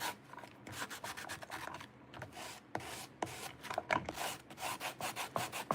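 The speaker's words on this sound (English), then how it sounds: "I'm gonna sand a little." Sandpaper rubs back and forth along a crackle-painted wooden edge in quick, uneven strokes, close and fairly loud, with no talking.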